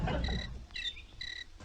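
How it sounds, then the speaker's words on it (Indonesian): Faint, thin cricket chirps repeating a few times over quiet background noise, calling at a distance. "Jangkrik, suara jangkrik jam segini coba."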